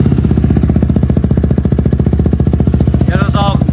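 A KTM Duke 250 BS4 motorcycle with a Leo Vince aftermarket exhaust idling close by, a loud, fast, steady engine thump that ends with a short rev rising and falling.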